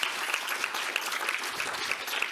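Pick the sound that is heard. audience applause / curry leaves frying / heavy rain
audience applause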